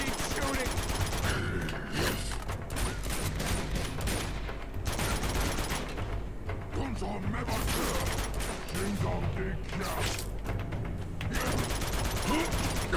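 Sustained heavy gunfire from shooting enemies in Uncharted 2: Among Thieves, loud and continuous bursts of automatic fire with mechanical clatter across the whole stretch, a voice talking faintly underneath.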